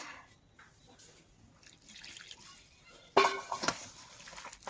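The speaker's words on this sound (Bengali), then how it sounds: "একটু জল দেবো" Water poured into a bowl of spiced meat and rice flour mix during village-style meat pitha preparation, with a faint trickle at first, then a louder splashing pour in the last second and a half.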